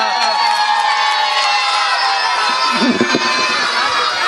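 An audience at a Meerut mushaira greets a poet with loud cheering and clapping, a dense, close crowd roar with shouts rising through it.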